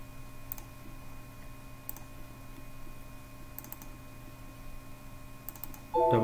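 Computer mouse clicks during a SQL Server 2014 software installation: four faint, isolated clicks spaced about two seconds apart over a steady electrical hum, with a louder burst of sound at the very end.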